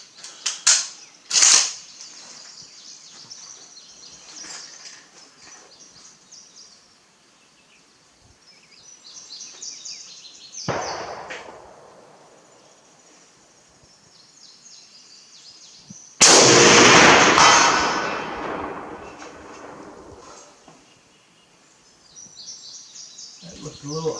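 A Russian M91/30 PU sniper rifle fires outdoors: a loud, sharp report with a long rumbling echo, plus a fainter shot earlier and bolt handling clicks, with bird calls in the background.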